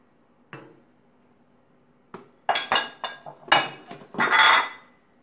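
Two eggs cracked against a pot and dropped into simmering Thai-style sukiyaki, a series of close, sharp taps and clinks of shell and utensil on the pot, bursts spaced irregularly with near silence between.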